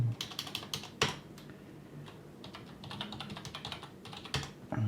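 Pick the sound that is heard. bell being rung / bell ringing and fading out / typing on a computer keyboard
typing on a computer keyboard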